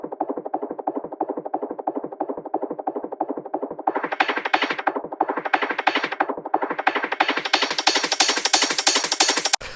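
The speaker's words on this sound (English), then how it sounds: "These like classic break beats." A fast, punchy classic breakbeat drum loop plays alone and loud, driving on steadily while a sweeping filter opens and closes, brightening toward the end before it cuts off.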